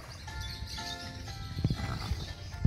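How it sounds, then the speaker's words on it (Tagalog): A large horse on a farm, heard as snorts and soft low animal sounds over steady outdoor background noise, fairly close and moderately loud. "So ang dagko nga kabayo na dito."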